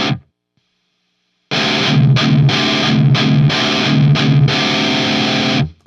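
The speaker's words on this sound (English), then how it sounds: "Yes, we're moving over to the distortion channel." An electric guitar plays through a Marshall Valvestate 8100 amp on its distortion channel with the gain turned all the way up. After a short silence come loud, heavily saturated chugging chords in a tight rhythmic pattern, with no talking over them.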